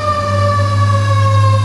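A fire engine siren sounds loud and steady with a sustained wailing tone over a low rumbling engine, close by and with no talk over it.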